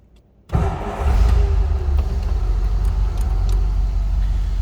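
A 1948 Ford Super Deluxe two-door sedan engine cranks briefly and fires right up after a quiet moment, then settles into a loud, steady running rumble close by.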